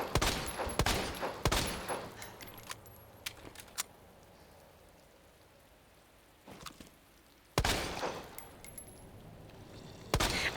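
Gunfire in Resident Evil, Leon A Hardcore: scattered sharp shots and clatter in bursts, with a quiet gap in the middle before more shots resume.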